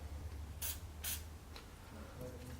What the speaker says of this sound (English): we're going to need to spray some grease on there